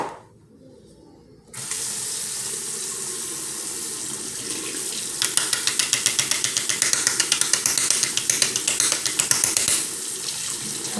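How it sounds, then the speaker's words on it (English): Tap water runs steadily into a sink while a makeup brush is rinsed, a continuous close hiss starting after a short quiet moment, with rapid clicky rattling pulses joining midway. "I'm gonna wash out my brush."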